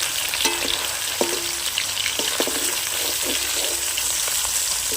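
Hilsa fish pieces fry in hot oil with a steady, close sizzle, broken by a few sharp clinks and scrapes of a spatula turning them in the pan.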